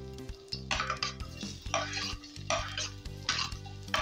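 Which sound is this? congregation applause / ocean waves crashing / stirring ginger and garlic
stirring ginger and garlic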